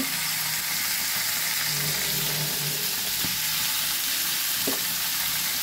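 Vegetables for shukto hiss and crackle in a hot pan, a constant close sizzle with a few soft knocks from stirring, and no voices.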